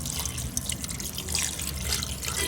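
Water pours steadily and close by into a boneless mutton fry, a continuous splashing rush with no pauses and no voices.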